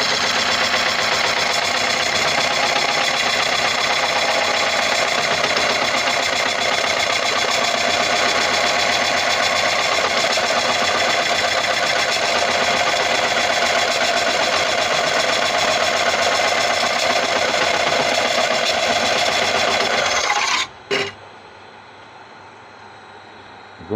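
A wood lathe turns a tigerwood bowl, running as a loud, steady broadband whir with continuous cutting noise for about twenty seconds before abruptly stopping, leaving near silence.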